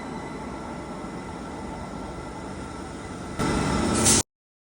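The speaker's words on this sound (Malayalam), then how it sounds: "ഈ വരുന്നതല്ല ഞങ്ങളുടെ ട്രെയിൻ, ഇതിന് കഴിഞ്ഞിട്ട് അടുത്ത വരുന്നതാണ് ഞങ്ങളുടെ ട്രെയിൻ." A train pulls into a station platform with a steady rumbling roar that grows louder and brighter near the end, then cuts off abruptly.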